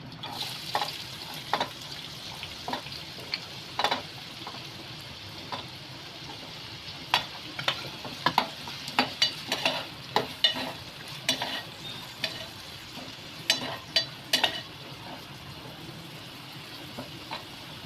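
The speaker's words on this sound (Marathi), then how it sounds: "कांदा तेलामध्ये फ्राय करून घ्यायचे" Garlic and onion frying in oil in a pan, with a steady low sizzle and frequent sharp scrapes and clicks of stirring, close up and without speech.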